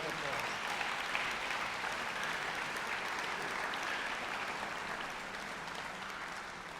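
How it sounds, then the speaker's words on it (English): Audience in a Singapore Chinese Orchestra concert hall breaks into steady applause, a continuous crowd of clapping hands at moderate distance that holds evenly for several seconds and eases slightly near the end. "Please, please, please give them a round of applause."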